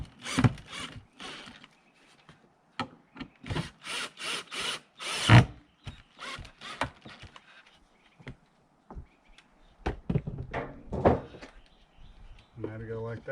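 Screws being driven into cut trim pieces during a DIY air conditioner install in a shed converted to an off-grid cabin, heard as a series of short, sharp power-driver bursts separated by quiet gaps, with scattered clattering handling noises.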